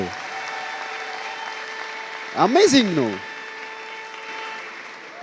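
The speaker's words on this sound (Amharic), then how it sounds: "ለጌታ ከፍ ያለ ጭብጨባና እልልታ ስጡ።" Congregation at an Ethiopian church service erupting in a short burst of clapping and ululation for the Lord, rising suddenly for about a second then fading back under steady talk.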